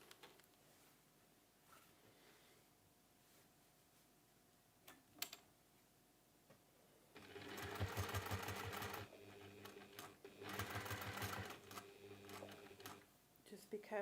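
Sewing strips onto a folded pinwheel cushion cover, a sewing machine runs in two bursts of a few seconds each, close and clear, after a quiet stretch of faint handling noise.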